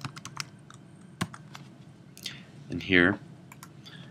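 Quick bursts of computer keyboard typing with crisp clicking keystrokes, near and clear, while someone speaks briefly between them during a web application demo.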